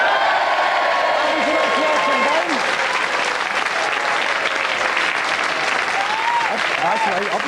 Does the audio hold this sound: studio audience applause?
yes